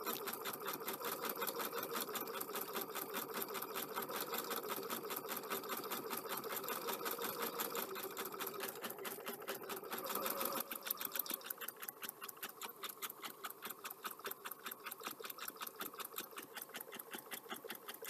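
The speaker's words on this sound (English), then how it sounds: "Sounds like the compressor cutting in and out." An air compressor in a craft room runs with a steady, rapid mechanical chatter, then cuts out and back in partway through, the rhythm shifting near the midpoint. It is fairly close and continuous, with no talk over it.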